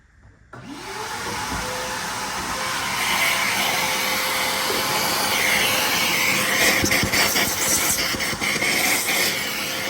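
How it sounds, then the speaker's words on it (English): A vacuum cleaner runs steadily while dusting out an overheated Xbox Series S console, a loud continuous whirring drone with hiss that switches on near the start and holds throughout, changing slightly as the nozzle moves. "Let's break out the vacuum, huh?"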